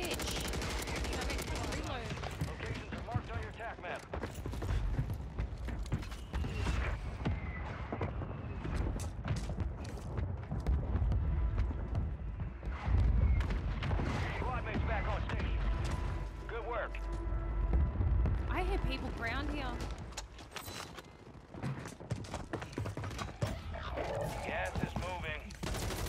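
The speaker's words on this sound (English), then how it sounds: "Friendly mortar strike on the way." Heavy explosions and gunfire from a mortar strike in Call of Duty Warzone on Rebirth Island, a dense, continuous barrage of booms and shots running throughout, with voices talking over the chaos.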